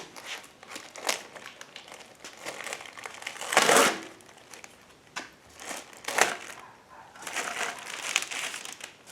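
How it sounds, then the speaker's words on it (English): Plastic being cut across the top of a can's wrapping, with irregular crinkling and crunching bursts, fairly quiet and close, including one sharper crackling surge midway. "Cut this plastic."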